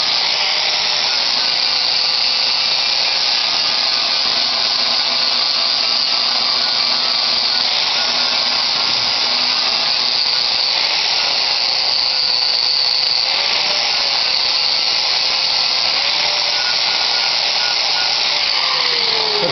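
Rust repair welds on a 1986 Jeep body are ground down with a power grinder, a loud steady high whine running for the whole stretch with slight pitch dips as the disc loads against the metal.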